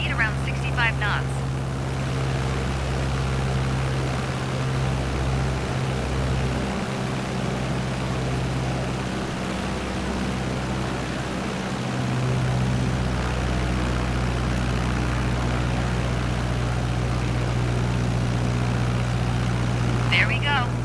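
A propeller plane's engine drones in Microsoft Flight Simulator 2020 during a landing approach, a steady humming buzz throughout with a voice talking over it.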